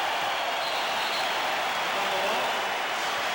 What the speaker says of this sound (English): now the crowd will give the Bulls a standing ovation